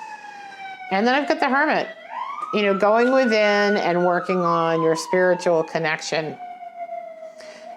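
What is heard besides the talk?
emergency vehicle sirens outside near a hospital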